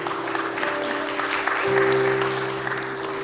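Short burst of audience clapping at a school sports awards ceremony, moderately loud and continuous, with a sustained musical tone running beneath it.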